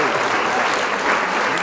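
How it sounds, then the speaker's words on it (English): A short burst of loud, steady applause, dense clapping that fills the whole moment with a faint voice underneath. "Round of applause."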